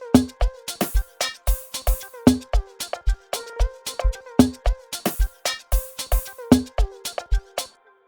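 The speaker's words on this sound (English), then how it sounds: "I layered this sound on top of like my open hat, so it sounds like this." A looping drum beat with punchy kicks and snares, topped by bright open hi-hats layered with an extra textured hit that rings and sustains between beats.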